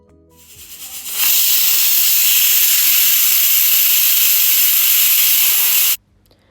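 A pressure cooker holding dal dhokli lets off its whistle, a loud, sustained hiss of steam that builds in for a moment, holds steady for several seconds and then cuts off abruptly.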